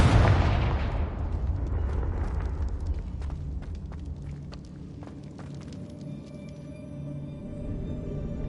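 A Confringo blasting-spell explosion in the Hogwarts Legacy video game: a heavy booming blast that decays into a long rumbling tail scattered with crackling pops and small bursts, loud and close, with no talk.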